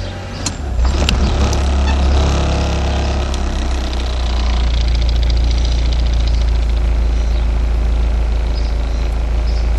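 A 1992 Honda Prelude with a swapped JDM H22A VTEC engine idling as the transmission drops into reverse, a steady low rumbling drone with a faint clunk near the start, loud and close, no talk.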